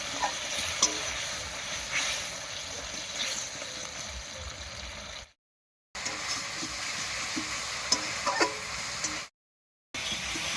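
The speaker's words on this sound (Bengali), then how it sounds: "এবারে মশলা বাটা জল দিয়ে খুব ভালো করে কষিয়ে নেব।" Spice paste fried and stirred with water in a pan for a vegetarian ridge gourd dish: a continuous close sizzle with scraping stir noises, broken by two brief silences.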